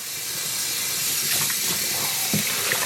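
Tap water runs steadily into a sink, rinsing fiber reactive dye out of a tie-dyed tank top, a close, continuous hiss and splash with faint handling sounds and no talk.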